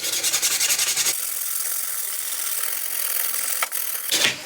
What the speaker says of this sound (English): I'm going to use a wire brush to get it back nice again